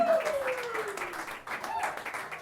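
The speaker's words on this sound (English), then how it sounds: "Give yourselves a big round of applause, everybody." A comedy club audience applauds after a stand-up set, a modest wash of clapping heard alongside a voice's whoop and some cheering near the start.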